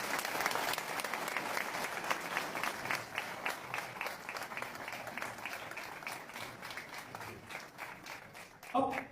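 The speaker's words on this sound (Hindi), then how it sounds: "तो पाकिस्तानियों के लिए हम सबको ताली बजानी चाहिए।" An audience at a political speech in Denmark claps for Pakistanis, a dense, steady round of applause lasting several seconds that fades slightly before a final burst.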